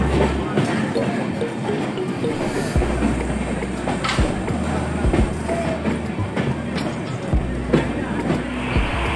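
A passenger train on the Kolkata to Sairang route rolls through Ranaghat station without stopping, with a steady close rumble, rhythmic wheel clatter over rail joints and a few sharp bangs.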